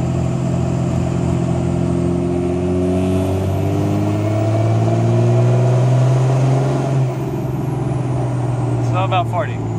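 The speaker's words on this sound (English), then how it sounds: "I'll start at low RPM here. See how much boost we got this time." A Cummins diesel truck engine pulls under boost, its deep drone climbing steadily in pitch as revs build from low RPM, loud and continuous inside the cab, ending with a brief faint whine.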